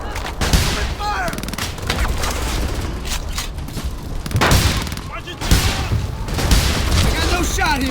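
Combat gunfire in Frontlines: Fuel of War, with continuous rapid rifle and machine-gun bursts and heavy booms, loud and close, while voices shout over the fighting.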